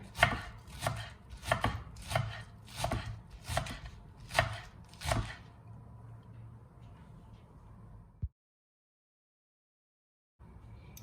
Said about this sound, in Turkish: Evet şimdi soğanlarını doğruyorum.